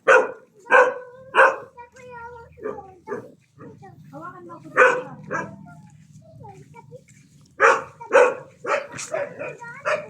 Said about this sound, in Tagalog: Ay, may aso din, oh.